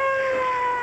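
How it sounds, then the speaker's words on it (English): A car siren from a film sounds as a steady, sustained electronic wail with strong tonal harmonics, short and fairly loud. "We'll hit the siren."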